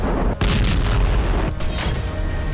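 A heavy blast from a Ukrainian strike on a weapons depot in Russia's Voronezh region, a deep, loud boom that rolls on into a sustained low rumble, with a second surge of force about a second later.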